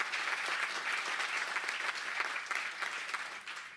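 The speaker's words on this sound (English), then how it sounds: "please, let's give them a round of applause" A crowd at a county supervisors meeting claps steadily for several seconds, a soft, even patter of applause heard from a distance.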